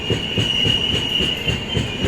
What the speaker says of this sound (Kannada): longest running train Vivek express